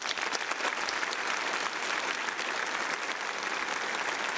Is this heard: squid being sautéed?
no